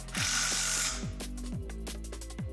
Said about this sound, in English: Then we fitted some heavy-duty braked casters to the plates